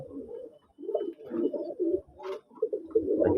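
Pigeons at a loft in Manikganj coo back and forth in repeated low rolling phrases with short pauses, close and clear, no voices over them.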